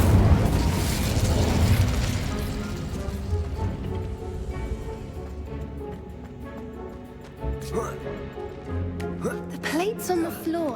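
Incendio fire spell cast in Hogwarts Legacy, a loud fiery burst up front that rolls and fades into a rumbling tail, with faint game clatter and a voice speaking near the end.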